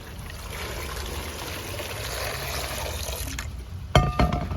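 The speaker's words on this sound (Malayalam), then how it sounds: "ചെമ്പിൻ്റെ അത്തോട്ട് വൃത്തിയായിട്ട് കഴുകിയെടുക്കാം" Water runs and splashes steadily as peeled raw bananas are washed in a large copper vessel, a continuous close wash that ends in a few louder clanks and splashes near the end.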